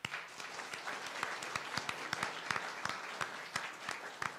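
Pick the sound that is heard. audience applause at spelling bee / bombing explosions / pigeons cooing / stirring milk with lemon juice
audience applause at spelling bee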